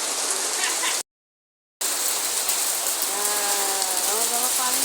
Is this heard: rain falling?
yes